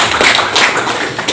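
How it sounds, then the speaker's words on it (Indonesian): An audience at a farmers' gathering claps for the farmers in a short, dense burst of applause heard close and loud. "Tepuk tangan buat bapak-bapak."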